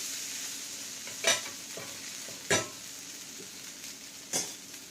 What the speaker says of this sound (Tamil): தோசை ஒரு சைட் பொரிஞ்சிருச்சு, திருப்பி போட்டுக்கலாம்.